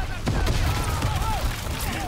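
Artillery and gunfire from the World War II shooter Call of Duty WWII: a busy, steady barrage of low rumbling booms and scattered shots across the whole short stretch, with shouted voices mixed in.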